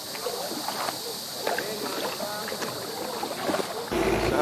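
Paddle strokes and water sloshing from a small canoe being paddled on a short trip in Thailand, with soft splashes recurring through the clip and faint voices in the background.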